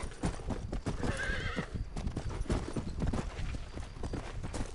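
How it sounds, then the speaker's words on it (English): A white stallion in Red Dead Redemption, rapid clip-clopping hooves at a steady gallop with a clear neigh partway through. "White stallion, huh?"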